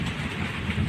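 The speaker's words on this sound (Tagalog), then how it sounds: "lumakas po yung ulan, may kasamang kulog at wala namang kidlat" Heavy rain pours in a steady dense roar, close and loud with no break. A low rumble of thunder sits underneath it.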